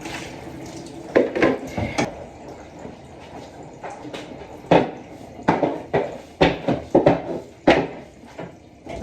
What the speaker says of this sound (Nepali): मैले भाँडा पनि धोएर भ्याइसकेँ।